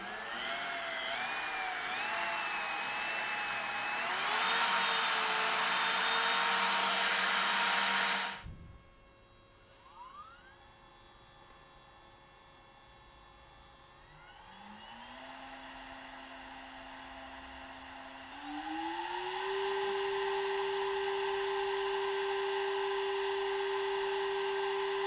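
A compact router whines loudly, then stops, and a Carbide3D 65mm VFD spindle spins up with a steadily rising pitch before settling into a smooth, quieter tone as the two CNC motors are compared.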